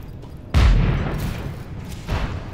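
Explosions go off in the open-world action game Just Cause 3: a sudden heavy boom, a rumbling tail, then a second, smaller blast a moment later.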